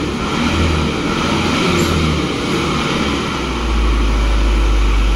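A vehicle is eased slowly forward at a house construction site, its engine a loud, steady low rumble that swells and deepens near the end, without speech.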